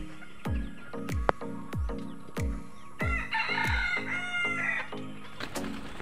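Gamefowl roosters of a breeding team, about five months old, at a poultry farm. They give a run of sharp, repeated clucks, then one bird crows with a long cock-a-doodle-doo, moderately near, with no talk.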